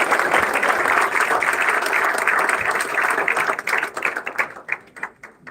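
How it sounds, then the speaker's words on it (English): Loud, sustained audience applause greets a guest speaker at a School of Chemical Engineering event at MITAoE Pune, the dense clapping thinning into scattered claps toward the end. "please give a huge round of applause for Sajirao Chopade sir"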